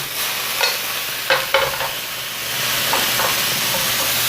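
Broccoli and pork hiss and sizzle loudly in a hot stir-fry pan, with a few soft knocks and rustles as the food is tossed, a continuous close steamy roar.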